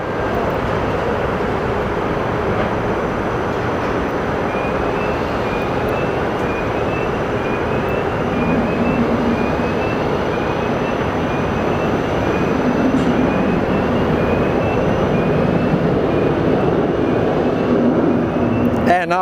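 A jet airliner departs Phoenix Sky Harbor Airport for Guadalajara, a loud, steady engine roar that slowly builds over a constant broadband rush, with a faint whine running through it.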